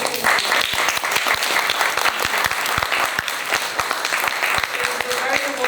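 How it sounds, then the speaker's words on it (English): Steady, loud applause from the audience at a fireside chat on women's health, many hands clapping in a dense, continuous patter with crisp individual claps throughout, sustained without letup. "And can we give a round of applause for all of you?"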